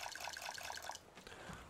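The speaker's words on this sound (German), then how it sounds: "Wasser auffüllen." Water being refilled in the survival video game Raft, a short liquid trickle and pour with a bright splashing texture for about a second, then a softer gurgle tailing off, fairly close and without talk.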